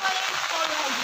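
Heavy rain pours down in a dense, unbroken hiss of drops hitting surfaces, close and steady for a single second.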